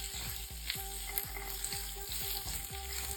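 Sliced okra sizzles and fries in hot oil in an open pan, a steady crackling hiss with repeated spoon stirs and scrapes throughout, close and continuous without any voices.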